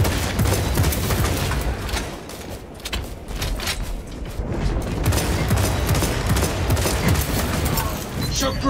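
Dense sustained gunfire in Warhammer Space Marine 2, a continuous loud rattle of rapid shots and impacts that barely lets up, with voices faintly mixed in.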